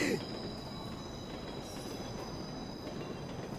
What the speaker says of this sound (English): I heard the sound of the train coming in above me, as if it was mocking me.